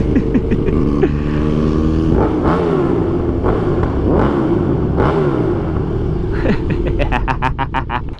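A KTM 1290 Super Duke motorcycle revs and accelerates hard, its loud engine rising and falling through gear changes close by, ending in a rapid pulsing burble as it eases off.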